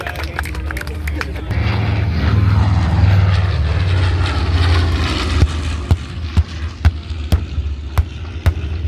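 A WWII-era Grumman Hellcat piston engine and propeller roars overhead at the Wings Over Houston airshow, a loud low drone swelling then fading, followed by a series of sharp bangs from the demonstration.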